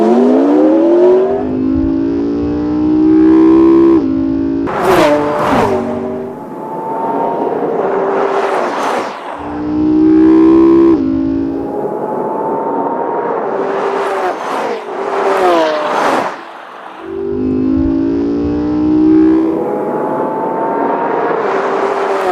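A Lamborghini Aventador with a 6.5-liter V12 and a McLaren accelerating in a quarter-mile drag race, loud engines rising in pitch through repeated gear shifts, roaring close by with no talk.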